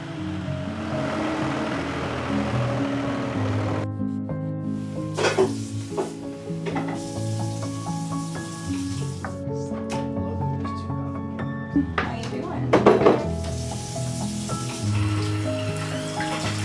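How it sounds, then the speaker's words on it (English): Apple butter is being stirred in a large kettle over an outdoor fire, with steady scraping and clinking of the paddle against the metal, occasional sharper knocks, and a continuous crackling, sizzling undertone close by. "Now we are here with our kettle and we are stirring"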